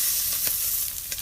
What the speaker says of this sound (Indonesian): Cairan berpendar dan memancarkan energi berbaur gejolak mendidih.